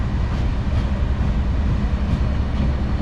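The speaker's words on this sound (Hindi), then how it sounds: "तो ये लोकोमोटिव जो है वो इस एंड पर लगा हुआ था जो कि रावलपिंडी से ट्रेन को लेकर आया था" A Green Line Express train and its locomotive at a station platform give a loud, steady low rumble and rolling rail noise that stays constant throughout, with no talk.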